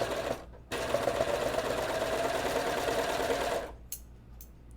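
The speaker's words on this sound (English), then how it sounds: "I'm going to sew my fabric band together first" Sewing machine stitching a fabric band for women's underwear, a steady continuous motor whir lasting several seconds before it stops, with brief handling clicks afterward.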